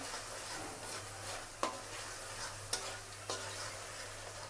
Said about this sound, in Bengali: টমেটোর সাথে মশলাটা কষিয়ে নেব যেন টমেটোটা গলে যায়